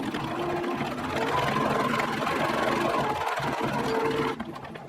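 A sewing machine runs a plain seam with right sides together at a 1.5 centimetre seam allowance, a steady close mechanical whir that holds for about four seconds before cutting off near the end.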